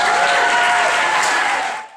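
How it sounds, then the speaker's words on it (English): Applause at a student union election results night as the new officer team takes the stage, a loud, close, dense wash of clapping from a crowd that cuts off abruptly near the end. "Big round of applause"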